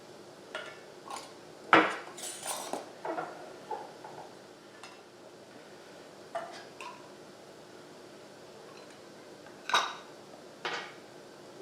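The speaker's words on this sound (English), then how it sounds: "Let's go ahead and put these lids on" Lids being put on glass canning jars of homemade tomato sauce, scattered metallic clinks and taps at irregular intervals, close and fairly quiet, with pauses of near silence between them.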